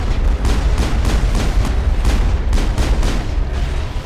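Sustained rapid gunfire from a weapon in the sci-fi shooter game Mass Effect, a dense, loud burst of repeated shots running without pause for several seconds.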